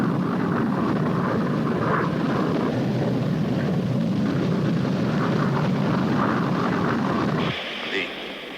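An airplane in flight on approach to land makes a steady, loud cabin drone with broad rushing noise that runs unbroken for several seconds, then drops off abruptly near the end.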